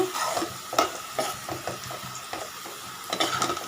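Onions sautéing golden in a pan for egg gravy, with a steady close sizzle and repeated scraping stirs of a utensil against the pan, no voices.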